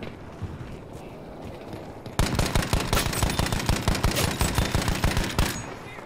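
Rapid automatic gunfire in a Battlefield firefight, a long sustained burst of evenly spaced loud shots that starts abruptly after a quieter stretch of distant battle noise.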